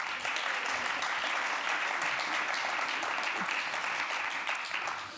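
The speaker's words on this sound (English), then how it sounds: "please give a hand of applause so people actually know you're here." Dense, steady audience applause at a book launch event for Future Cities, many hands clapping together in a continuous wash that stays even and fairly soft before tapering slightly at the end.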